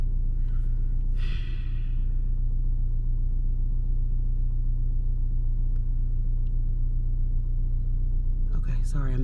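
A car engine in need of oil runs with a steady, loud low rumble throughout, while a person breathes and sighs nearby and a brief rustle comes near the end.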